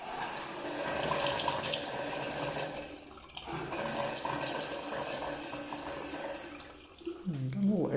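A household faucet runs with air sputtering in the water line, a steady rushing stream that briefly cuts out and resumes, ending with uneven spitting bursts, close by and moderately loud with a voice heard near the end.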